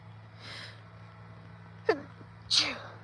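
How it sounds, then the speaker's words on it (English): A single sneeze bursts out sharply near the end after a brief gasping intake, close and loud over a steady low hum, with no talk around it. "I have to sneeze."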